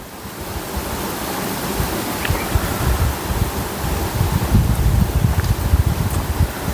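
Wind blows steadily past the microphone beside the water, a continuous close rushing roar with gusty rumble that builds toward the end and no voices.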